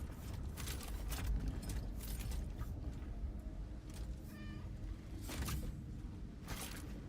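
A cat meows in the sci-fi video game Chronos: New Dawn, giving several short, fairly faint meows spread across a quiet background with occasional clicks.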